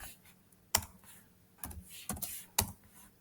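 Keys on a computer keyboard are typed to log in over SSH, a handful of sharp, sparse clicks at close range, faint overall, with no speech.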